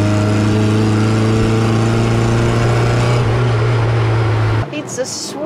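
Small engine of a 1972 Hillman Super Imp accelerating, a loud steady harmonic drone that holds its pitch and then cuts off abruptly near the end, with a brief faint sound afterward.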